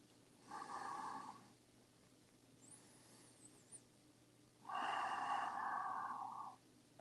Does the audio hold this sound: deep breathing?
yes